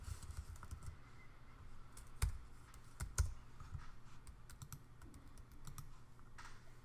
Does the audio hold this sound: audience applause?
no